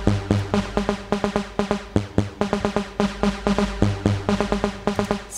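A Spire synth lead with its transient layers removed plays a fast, choppy pattern of short, tightly gated notes over a steady low bass, loud and close throughout, with no voices.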